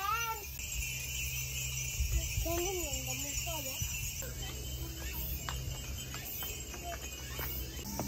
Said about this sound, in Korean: 너무 매미가 울고 있어